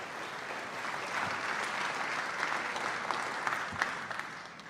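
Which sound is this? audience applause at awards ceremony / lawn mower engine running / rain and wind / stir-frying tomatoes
audience applause at awards ceremony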